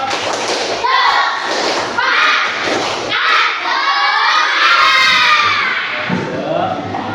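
A school class of children doing a rhythmic spirit clap together, loud bursts of clapping and thumping mixed with children's shouting and chanting voices in a classroom.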